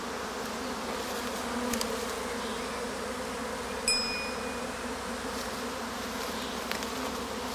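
Honey bees swarm and circle across an apiary, making a continuous dense buzzing hum that stays steady throughout, with single bees passing close now and then.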